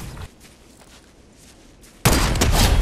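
Gunfire from a Fortnite headshot bursts in loud and dense near the end, a sustained crackling blast after a quiet stretch of low background noise.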